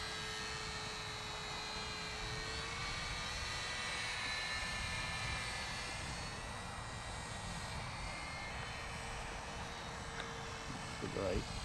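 An upgraded Tony Ray kit SE5A model airplane in flight, a thin steady engine whine holding at a distant, moderate level with slight pitch shifts, a soft rustle near the end.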